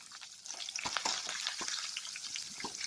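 Urad dal and green chillies fry in very hot oil in a pan, a close, steady sizzle with crackling pops and a few louder spits, without any talk.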